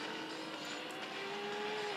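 A race car in the mobile game Real Racing 3 roars at speed down a hill, its engine pitch climbing steadily in one short loud burst with no voice.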